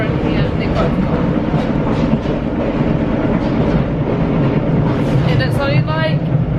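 Steady, loud rumble of a Bulgarian passenger train in motion, heard from inside a nearly empty carriage, with a continuous rolling clatter that runs throughout.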